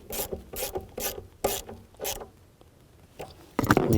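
Ratchet clicking as a bolt is snugged down on a 2009-17 Chevy Traverse during a water pump job, several quick bursts of sharp ratcheting strokes, close and fairly loud, then a short pause and a final heavier burst.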